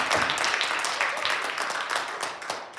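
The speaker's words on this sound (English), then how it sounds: "I think we can get a little more raucous for our applause for Sister Janet" Audience at an evening community gathering in a church hall applauding, a fairly faint, steady patter of clapping lasting a few seconds with no talk over it.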